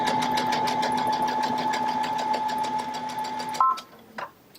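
A Baby Lock sewing machine stitching a quilt piece runs at a steady, rapid, whirring pace for several seconds up close, then stops with a brief click and a softer mechanical clunk.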